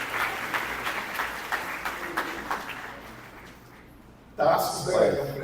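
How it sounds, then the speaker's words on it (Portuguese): A church congregation applauds during an evening service, a soft, distant patter of clapping that fades, then a louder voice cuts in at the end. "vamos aplaudir ao Senhor, a Jesus pela vida dele"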